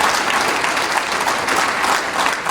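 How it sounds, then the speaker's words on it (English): Audience at a South Sudanese youth empowerment awards ceremony gives a steady round of applause, dense continuous clapping that fills the room at a fairly loud level without pause. "So we give them a round of applause."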